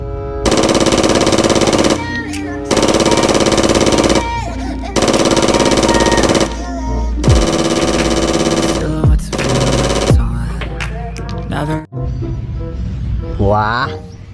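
Rapid machine-gun-style bursts from a cream-coloured Black Mamba pistol in Jurassic World Evolution 2 hunting, four loud sustained volleys of a second or two each, followed by scattered shots and game effects.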